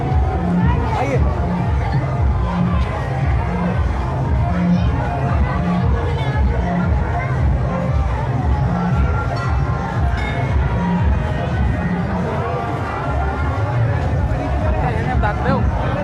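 Crowd hubbub at the Sunasar Nath temple festival in Banda, with dense overlapping chatter and scattered shouts from a packed gathering throughout, while someone speaks over it in the foreground.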